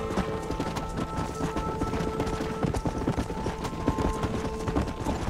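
Many horses' hooves clip-clop busily and continuously as a herd is driven in the Red Dead Redemption video game, a dense close trampling rhythm with no talk over it.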